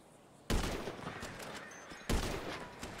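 Sniper gunfire in GTA Online's Drop Zone adversary mode: two sharp, loud shots about a second and a half apart, each followed by a short rolling echo over a quiet background.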